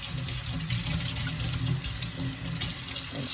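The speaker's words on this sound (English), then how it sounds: "So what I like to do is just rinse it off" Running water from a kitchen sink tap rinses fresh cilantro, a steady close splashing stream that holds at an even level throughout with no talk.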